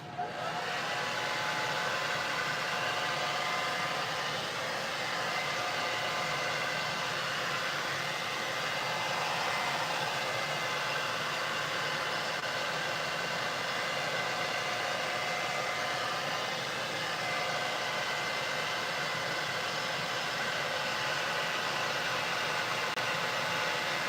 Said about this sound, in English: hairdryer time, folks. Here we go again